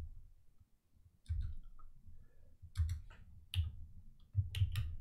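Computer mouse buttons clicking on points in X-ray microprobe scanning software: a few soft, separate clicks spaced over several seconds, faint over a low background hum.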